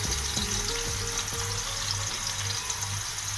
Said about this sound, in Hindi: उसमें बड़ी प्याज भी है, इसको शामिल करें और प्याज को अच्छी तरह फ्राई करें।